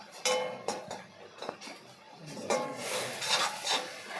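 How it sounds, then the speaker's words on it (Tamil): A spoon scrapes and stirs onions and tomatoes sautéing in oil in a pan for an egg pepper gravy, with intermittent close scraping strokes and soft sizzling, no talking. "இந்த வெங்காயம் தக்காளி இதெல்லாம் பச்சை வாடை போக நல்லா நம்ம வதங்கிக்கிறோம்"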